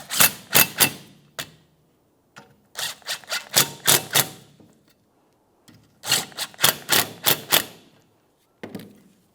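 Bolts on a brake dust shield of a 2014-2019 Toyota Corolla being snugged up with a ratchet, heard as three bursts of quick, close clicking separated by short pauses, with a final brief click at the end.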